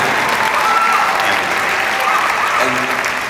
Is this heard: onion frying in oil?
no